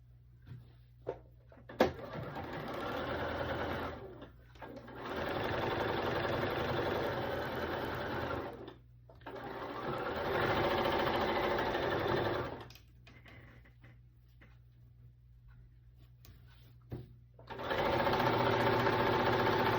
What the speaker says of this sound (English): I'm just gonna sew this 1/4 inch seam allowance